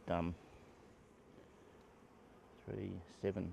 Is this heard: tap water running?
no